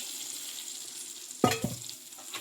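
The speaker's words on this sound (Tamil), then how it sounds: "புளி தண்ணியை சேர்த்துக்கலாம் கலக்கி விட்டு சேர்த்துக்கலாம் நல்லா கொதிக்கணும்" Quiet kitchen background, then a sudden burst of bubbling and clattering stirring as tamarind water boils in a pot, settling into a soft simmer.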